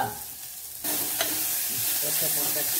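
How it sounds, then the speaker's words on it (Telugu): Green chillies, carrot pieces and tomato hit hot oil and burst into a loud, continuous sizzle that holds steady, with faint stirring beneath it and no speech. "కొద్దిసేపు వీటిని నూనెలో గొలివాలి"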